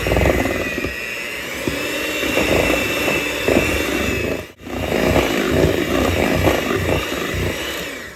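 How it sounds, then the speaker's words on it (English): Electric blender whirring through rum cake batter at close range, a steady loud motor drone that briefly cuts out midway and then resumes at a similar high speed, with no talking. "And then we're just gonna blend this together. Start slow. Turn up the speed a bit."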